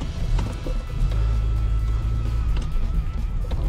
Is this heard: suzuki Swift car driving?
yes